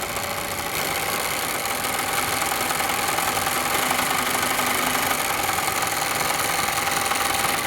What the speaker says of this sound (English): push the pedal as if we were sewing, and it will start winding onto the bobbin.